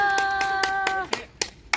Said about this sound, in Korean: 큰 박수와 함성으로 어, 발언해주신 분께 박수 쳐드리면 감사하겠습니다